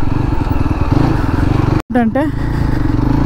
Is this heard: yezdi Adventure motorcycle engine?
yes